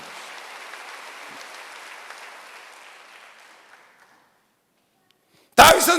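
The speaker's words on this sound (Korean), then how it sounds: "박수 한번 하세요." A church congregation applauds during a Wednesday worship service, a dense patter of clapping that fades out over about four seconds into silence before a sudden loud knock-like burst at the end.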